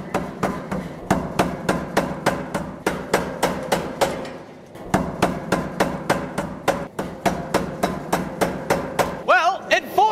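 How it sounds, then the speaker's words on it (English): An Anyang mechanical power hammer pounds hot steel in rapid, steady blows, a brief pause midway, then resumes; loud and close, with a ringing squeal near the end. "On this heat, we are going to try the Anyang Power Hammer."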